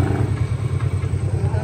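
Motorcycle engine running near a petrol pump, a steady, close, rumbling low throb that pulses rhythmically without a break.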